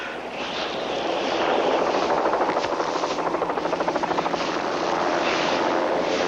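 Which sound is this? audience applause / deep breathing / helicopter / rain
helicopter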